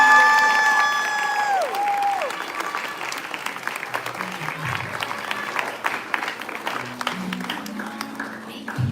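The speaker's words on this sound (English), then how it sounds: "Let's give one last round of applause for our head coaches." A live audience claps and cheers for head coaches, dense steady applause with a few whoops near the start, gradually easing but continuing throughout; a voice is briefly heard over the crowd.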